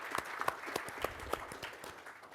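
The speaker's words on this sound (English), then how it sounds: "a big round of applause for our 2 speakers" Audience applause for two panel speakers closing a conference session on microgrids, a steady patter of many hands with a few sharper claps, moderately distant and without talk.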